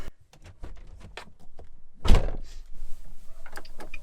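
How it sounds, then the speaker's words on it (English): Car doors on a Nissan Armada are shut, a single heavy thunk standing out amid quieter clicks and rustling handling noises in a vehicle, fairly close and moderately loud. "Close all vehicle doors, turn the hazard lights on."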